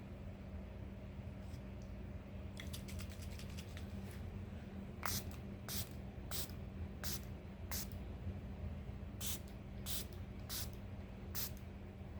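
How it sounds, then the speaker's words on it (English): Milani Make It Last Original Finish setting spray misted in a series of short sharp spritzes, close and fairly soft, over a low steady background hum, with a faster run of pumps before the evenly spaced sprays. "And now I'm going to use the Milani Make It Last Original Finish setting spray."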